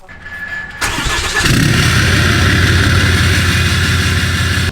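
A 2019 Ram 3500 Limited pickup truck engine cranks and catches, then settles into a loud, steady idle rumble nearby.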